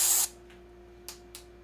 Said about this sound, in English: Next, I'll spray another section with a wet PTFE product. It sprays on wet and stays wet.